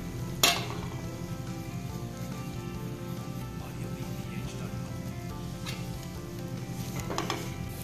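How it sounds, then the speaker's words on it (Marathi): Red chili, salt, turmeric and peanut powder sautéing in a pan, a steady sizzle with a sharp spoon clink at the start and a few scraping stirs, no talk. "आता हे देखील आपल्याला छान असं परतून घ्यायचंय।"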